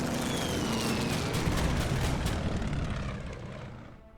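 Propeller aircraft engines from the war strategy game Order of Battle, Burma Road campaign, a loud droning pass that swells and then fades out toward the end with no talking over it.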